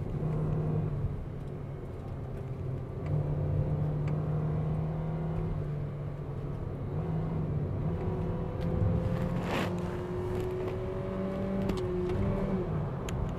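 A 2021 Mitsubishi Xpander climbs a mountain road, its engine droning steadily from inside the cabin with gear-change pitch shifts, rising and falling whine, moderately loud throughout.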